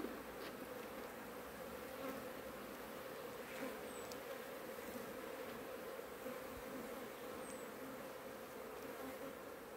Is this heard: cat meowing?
no